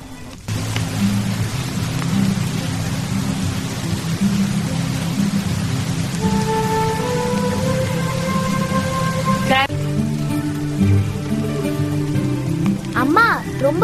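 Steady rain falls around a mountain cottage as an even, continuous hiss. Sustained tonal sounds and a voice rise over it partway through.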